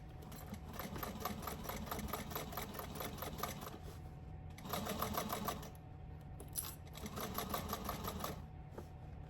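A sewing machine stitches around a tote bag in three bursts of rapid, even needle chatter, separated by brief pauses, recorded close and fairly quietly.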